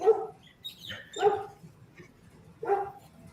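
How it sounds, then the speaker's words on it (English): Dogs bark at chickens, several short sharp barks spaced unevenly over a few seconds, a little distant, with softer yips in between over a low background murmur. "Dogs see the chickens."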